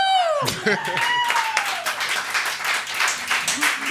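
Audience clapping and applauding at a live stage show, a dense steady patter of hands running throughout after a brief high tone at the start, fairly loud and close.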